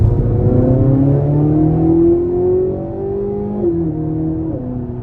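A 2024 Chevrolet Corvette Z06 engine drones loudly and close by, its pitch rising as it accelerates through gears, with brief dips at each shift.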